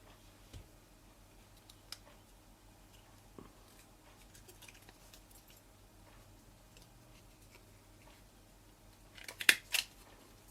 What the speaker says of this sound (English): Little handheld stapler, which is brilliant.